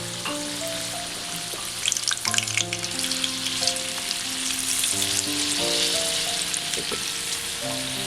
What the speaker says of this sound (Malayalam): എണ്ണയിലേക്ക് ഇടാം. ഇനി ഒന്ന് മറിച്ചിടാം.